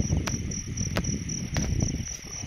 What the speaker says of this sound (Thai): เสียงกบพอลอง